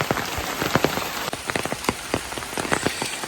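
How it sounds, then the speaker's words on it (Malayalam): Heavy rain pours down steadily, with dense drops pattering and splashing on a nearby surface. "ഭയങ്കര മഴയാണ് കേട്ടോ മഴ മഴയത്ത് നടക്കുകയാണ്"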